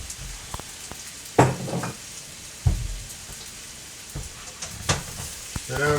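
Kimchi bacon fried rice sizzles in a hot pan with a little sesame oil, a steady crackling bed broken by a few louder stirring scrapes and clatters near the mic.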